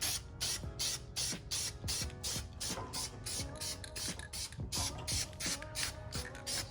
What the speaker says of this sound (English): This side should be a lot more easier when it comes to spraying the engine down.